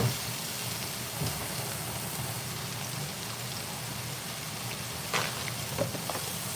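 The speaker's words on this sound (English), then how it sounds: "Fries are frying." Constant crackling sizzle of fries frying in hot oil, a dense hiss with occasional louder pops.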